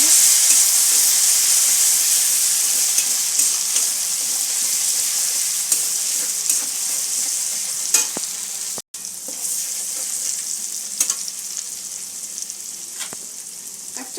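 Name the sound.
spice paste with turmeric frying in pan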